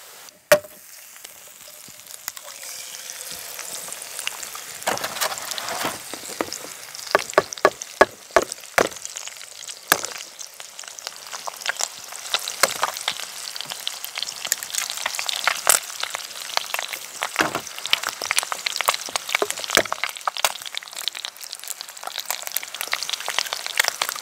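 Bacon crackles and spits in a pan on a Firebox camping stove outdoors, a steady sizzle broken by many sharp pops.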